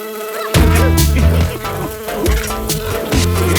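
A cartoon housefly buzzing: a loud, close, wavering insect drone that swoops up and down in pitch and continues throughout over a busy backing of music and effects.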